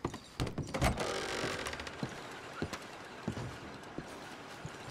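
Horse hooves clop on hard ground in Red Dead Redemption 2, with a few heavy thumps as the horse moves through a doorway, scattered close steps over a quiet ambient background.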